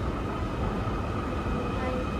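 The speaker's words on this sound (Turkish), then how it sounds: "Şimdi yine metroya bineceğiz." Steady, loud rumble of a Munich U-Bahn metro train in motion, a broad low roar with a faint high whine running through it.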